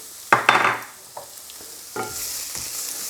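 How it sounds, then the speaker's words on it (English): Turmeric and curry base for chicken curry fry in a pan, a loud burst of stirring and scraping at the start, then a few lighter scrapes over a steady hiss of sizzling oil, with no talk. "Just move that around. Get it all coated with that turmeric. Just going to cook this for like a minute."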